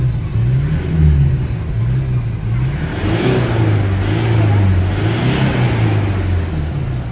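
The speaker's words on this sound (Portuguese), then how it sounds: "E o motor tá suave, ó." A Toyota Hilux 3.0 diesel engine with about 446,000 km on it idles smoothly and steadily up close, a low even hum with faint background noise throughout.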